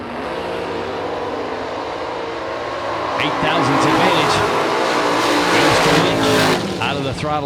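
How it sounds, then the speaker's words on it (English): An S10 pickup truck launches at a drag race, its engine roaring louder and harder from mid-clip onward, with tire noise and an announcer talking throughout. "That's that S10 pickup truck"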